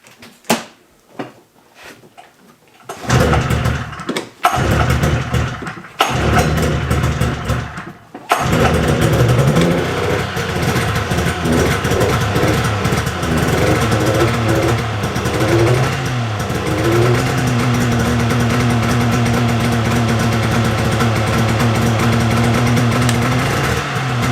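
A Polaris Indy XLT 600 triple-cylinder snowmobile engine cranks in several short bursts, then catches and settles into a loud, steady, slightly uneven idle close by.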